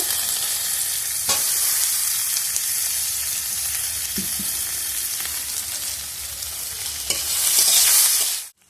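Chopped onion and green chillies sizzle steadily in a pan for an egg curry, a continuous bright frying hiss with occasional stirring scrapes, growing louder near the end before cutting off.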